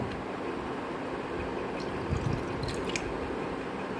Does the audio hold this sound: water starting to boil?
yes